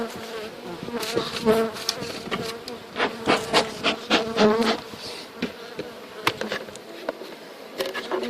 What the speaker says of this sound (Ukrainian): Дуже бджолки розліталися.